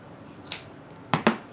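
Fabric scissors snip and click close by, one sharp metallic snap followed a moment later by two quick cuts in a row, with a quiet background.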